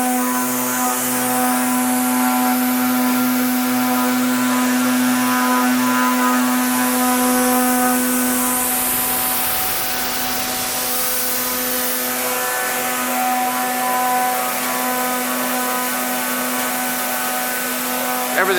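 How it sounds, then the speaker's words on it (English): Steady fan whirring inside the cleaning system of a used Pace Omni Line 400 automatic bottle unscrambler, a constant mechanical drone with a strong tonal hum running throughout at moderate, even loudness. "What you hear running is a fan inside for the cleaning system"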